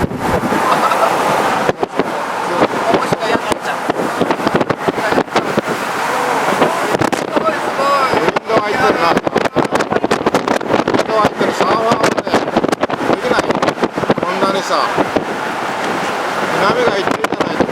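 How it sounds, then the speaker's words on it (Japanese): Strong, gusting wind buffets the microphone at the sea at Inamuragasaki and Shichirigahama after Typhoon 18 passed, with rough surf rumbling underneath; the roar is loud and continuous with sharp gust bursts, and people talk over it. "だって風がすごい"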